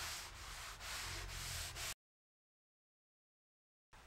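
Oil is rubbed by hand into wood along the grain during a van office build. Close, steady rhythmic rubbing strokes last about two seconds, then the sound cuts to silence before briefly returning.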